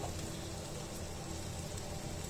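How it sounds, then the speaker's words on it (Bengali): A steady, even rushing hiss of boiling hot water poured into a pot of fried rice and beef, filling the whole moment without pause or voices. "গরম পানিটা আমি ঢেলে দিয়েছি।"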